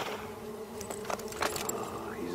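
Bees buzz steadily around a beekeeping spot, a faint droning hum with a few sharper passes as insects fly close, mixed with light clinking and a murmur of background voices.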